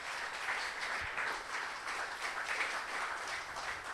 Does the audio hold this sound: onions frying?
no